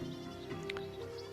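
Goats bleat in the Viking settlement game Land of the Vikings, a faint, wavering cry rising briefly over a steady low background hum and soft game ambience.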